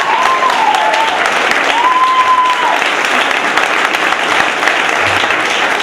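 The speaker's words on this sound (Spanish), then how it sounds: "¡Un aplauso, por favor!" An audience at a live band performance gives loud, continuous applause, dense and close, with a couple of whistles and shouts rising over the clapping.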